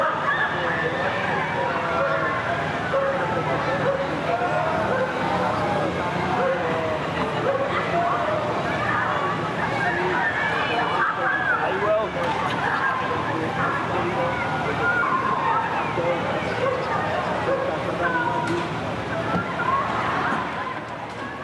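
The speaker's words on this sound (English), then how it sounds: "Let's just listen to the crowds." A large crowd outside a hospital as King Charles leaves murmurs and chatters continuously outdoors, with scattered voices and occasional louder calls rising from the steady babble.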